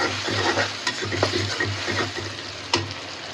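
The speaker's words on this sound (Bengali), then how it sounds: "রুই মাছ ভুনার জন্য মশলা কষাচ্ছি" Spices sizzle in hot oil as they are stir-fried for a rohu fish bhuna, with a steady close frying hiss and repeated scraping stirs at an uneven rhythm.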